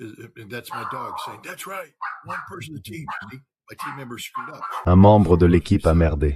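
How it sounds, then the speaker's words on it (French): Dogs barking loudly during a podcast, a burst of repeated barks near the end that cuts over someone talking. "Des chiens qui aboient et qui interrompent le podcast"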